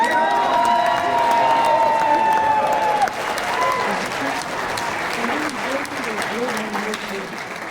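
Audience at a planning commission meeting cheering, whooping and clapping loudly in a sustained burst, with raised voices and shouts mixed into the applause throughout.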